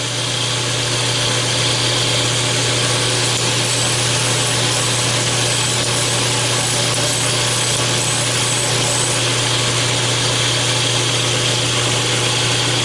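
A power sander with 180 to 220 grit paper runs continuously and loudly, a steady droning hum with abrasive hiss layered over it and no pauses or speech.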